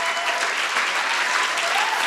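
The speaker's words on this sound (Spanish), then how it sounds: "Denle un fuerte aplauso al Señor por eso." A church congregation applauds, steady and dense clapping from a large crowd filling the space throughout without a break.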